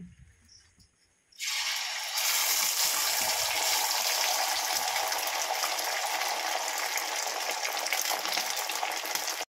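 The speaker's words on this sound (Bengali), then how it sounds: "কড়াইতে তেল গরম হয়ে গেছে, এবার ডিমের অমলেটটা ভেজে নেব" Egg omelette dropped into hot oil in a wok: a sudden loud sizzle bursts in after a quiet start and holds as a steady, dense crackling hiss to the end, close and alone.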